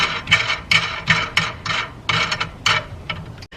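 Nuts spun by hand onto threaded studs while fitting R32 GTR parts, a repeated series of short ratcheting, rasping clicks in quick bursts, close and fairly loud, with no talking.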